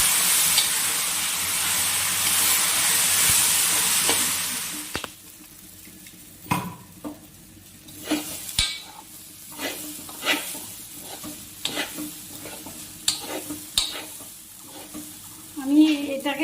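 Gobindobhog rice is stirred and fried in a pan for pulao. A loud sizzle opens the scene, then fades into a quieter crackle punctuated by repeated scraping, clinking stirring strokes.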